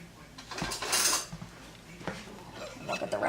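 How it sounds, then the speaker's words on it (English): In a home kitchen, metal cutlery clatters and a drawer rattles as a spoon is fetched, a loud jangling burst followed by softer clinks. "Now let me get a spoon."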